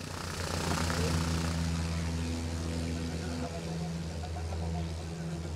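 Propeller tow plane pulling a Fox glider up to altitude during a Saturday dusk air display, a steady droning engine hum with harmonic tones, loud and continuous throughout.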